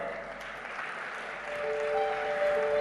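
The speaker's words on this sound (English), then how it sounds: "with a huge round of applause" Applause at a biotech conference in Hyderabad as a company representative is welcomed onto the stage, a soft, diffuse patter of clapping that swells slightly louder toward the end, with a faint sustained tone running underneath.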